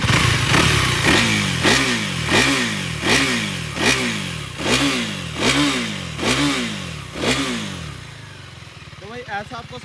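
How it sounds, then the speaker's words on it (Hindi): KTM Duke 390 Gen 3 motorcycle with an underbelly exhaust, revved close up in neutral in about nine repeated sharp throttle blips, each rising and falling, before settling to idle. "तो भाई ऐसा आपको साउंड मिलता है ड्यूक 390 का।"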